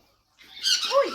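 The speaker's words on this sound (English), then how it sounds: "Bird on bird violence there." Birds fight over popcorn with one sudden, harsh squawk that breaks a brief silence, close and fairly loud, rising and falling over about a second.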